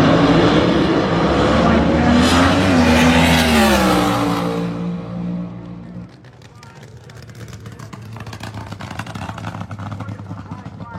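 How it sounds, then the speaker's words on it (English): Drag racing car at the March Meet revving up at the start line, a loud rising engine roar that cuts off after several seconds, followed by fainter rumbling, with an announcer talking over it. "The RPMs come up on that Atlas Testing Laboratories car."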